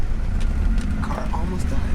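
BMW E30 with a swapped S52 engine idling roughly at a stop, close and steady, the low rumble sagging as if about to stall, with faint sounds above it and no clear talk.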